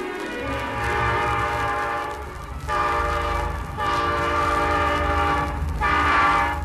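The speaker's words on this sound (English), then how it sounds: "A train." A train roars past on a 1970s Batman story record, its loud horn-like tones swelling and dipping in repeated blasts over a steady rumbling rail noise, with no voices.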